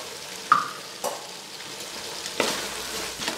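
Sliced carrots are tipped into paneer fried rice and stirred in a frying pan, giving a steady soft sizzle broken by a few sharp scraping stirs. No one speaks.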